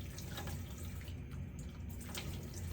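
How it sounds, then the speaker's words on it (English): Rinse water poured from a cup into a sink, a steady close splashing pour with a continuous watery rush for a few seconds. "pour the rinse water in the sink"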